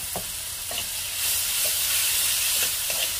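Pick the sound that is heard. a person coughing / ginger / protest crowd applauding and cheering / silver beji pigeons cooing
ginger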